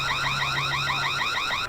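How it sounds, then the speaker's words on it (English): A Reolink Altas solar-powered outdoor security camera sounds its alarm siren: a loud, rapid electronic warble that rises and falls in quick repeating sweeps, heard on its own at close range. "selecting this and then tapping here will turn on the alarm outside, which sounds like this."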